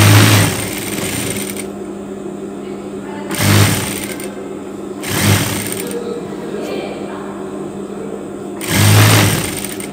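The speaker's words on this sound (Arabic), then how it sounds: "اذا راني نخيط الكابيشو على بالكم." An electric sewing machine stitches the hood of a long cardigan for hijab wearers, running in steady bursts of rapid mechanical whirring broken by short pauses, with a voice talking over the work.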